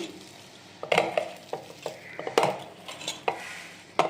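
A spoon scrapes and clinks against a bowl while a puffed rice snack mixture is tossed together, irregular close stirring knocks and rustles at a moderate level.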